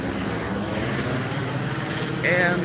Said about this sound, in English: Helicopter overhead